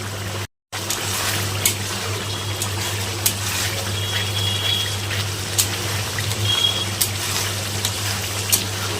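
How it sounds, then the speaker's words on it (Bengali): Water is poured into a pan of cauliflower curry cooking in mustard oil, a continuous trickling and gushing stream heard close up with a low hum underneath. "এখন দিয়ে দিব জল।"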